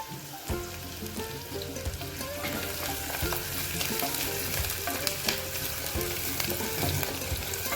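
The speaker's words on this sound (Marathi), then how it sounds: "तर चला आता कांदा परतून घेऊया." Chopped onion sautés in a pan for paneer bhurji, giving a steady soft sizzle and crackle with occasional scraping as it is stirred, moderately quiet and close.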